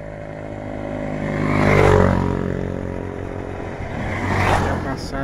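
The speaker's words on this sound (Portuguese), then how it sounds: "motos, carros fazem trajetos aqui da cidade para Limoeiro" Two vehicles, motorcycles or cars, pass one after another on a wet river crossing in Limoeiro do Norte, Brazil, each engine swelling as it nears and fading away, with a steady low hum between them.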